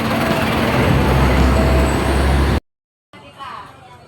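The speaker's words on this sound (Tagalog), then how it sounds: "Traffic." Road traffic at a stoplight, heard from a bicycle: a steady loud rumble of buses and vehicles that cuts off abruptly, then quieter street ambience returns.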